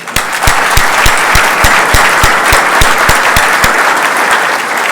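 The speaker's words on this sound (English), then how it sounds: "Please, a round of applause for them." Applause from an audience at a Grand Forks State of the City address in 2009, with steady dense clapping and a few sharp louder claps standing out, filling the room throughout.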